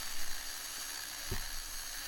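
A knife blade being ground to put a bevel along its edge, with a steady, even grinding hiss that runs unbroken from start to finish at a fairly quiet level.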